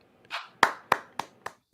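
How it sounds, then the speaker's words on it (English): A few hands clap close by in a short run of about six sharp claps, spaced roughly a quarter second apart and fading slightly toward the end. "No, don't clap."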